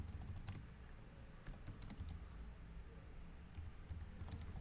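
A computer keyboard tapped in quick, uneven bursts of light clicks while ICT coursework data is entered, quiet and close with no voices.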